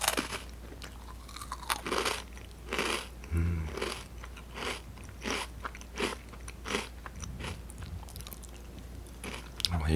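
A snack is crunched and chewed up close in quiet ASMR style, with repeated crisp bites and crunches followed by softer chewing, and a voice briefly in between.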